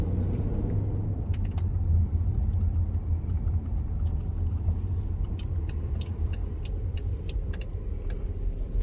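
A BMW X SUV with a turbocharged engine, checked for a vacuum leak, is out on a test drive; a steady, loud low rumble of engine and road noise fills the cabin, with faint rattles and clicks and no talking.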